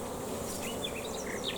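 A swarm of honey bees settles on a branch in the countryside, giving a dense, steady buzzing drone close by with no break.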